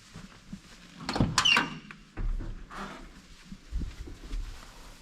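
The door of a 1972 Ford F250 Ranger truck creaks and clunks open, then shuts again with a muffled thud, quiet and close with a few small rattles between.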